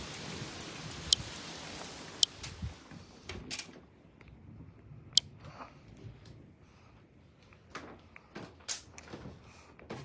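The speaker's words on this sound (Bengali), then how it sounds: "অনেক বৃষ্টি পড়তেছে, আকাশটাও কালো হয়ে গেছে" Rain falls under a dark sky, a soft patter broken by scattered sharper drops and taps, fairly quiet and uneven, with no talking.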